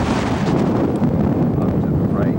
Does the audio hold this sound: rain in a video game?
no